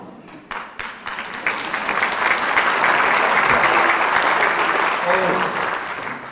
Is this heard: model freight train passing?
no